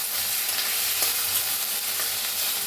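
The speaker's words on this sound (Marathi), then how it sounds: "लाल होईपर्यंत भाजून घेऊया आपण कांदा" Chopped onion and tomato fry in a pan with a continuous, even sizzle. Faint stirring sounds are heard close by.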